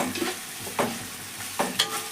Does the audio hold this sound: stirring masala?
yes